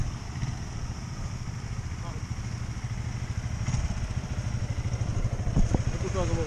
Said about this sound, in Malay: Aku tahu sama motor tu.